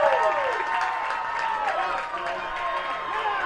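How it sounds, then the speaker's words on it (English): A crowd at an amateur baseball state tournament in Minnesota applauds and cheers a strikeout, a steady wash of clapping and shouting with a few whistles, loud and sustained throughout. "gets the Young America crowd all fired up."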